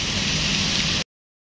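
Heavy rain at a bus terminal pours as a dense, steady hiss, cuts off abruptly for a moment, then returns.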